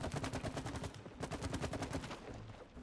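Rapid, steady gunfire from the video game It Takes Two rattles continuously for a few seconds, a dense string of shots with no talk over it.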